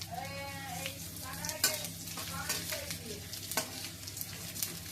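Whole cardamom, cinnamon and white cumin sizzle in hot oil for a cauliflower and fish-head curry, a steady crackling hiss with a voice running underneath.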